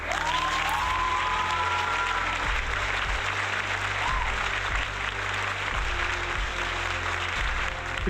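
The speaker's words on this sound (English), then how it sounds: "Round of applause" Sustained applause from a crowd, steady and fairly loud throughout, with a whistle rising briefly near the start.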